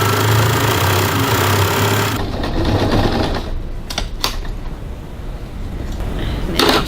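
A sewing machine runs a topstitch about an eighth of an inch from a bag pocket seam at stitch length 3.5, a loud close whirring at first that gives way to quieter handling clicks and bumps.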